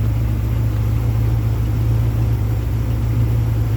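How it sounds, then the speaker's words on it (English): A 1959 Chevy 3100 pickup engine idles smoothly and steadily, a loud, continuous low rumble with an even mechanical hum and no revving throughout. "here the engine runs nice and smooth"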